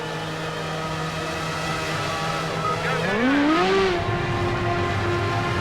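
A Formula A race car rejoining the track at Brands Hatch in Project CARS, engine droning steadily and then revving upward through the gears, loud and close with tire and road noise.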